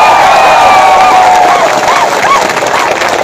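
A large crowd at an outdoor political campaign rally claps and cheers loudly and continuously, a dense wash of applause with whistles and shouts running throughout.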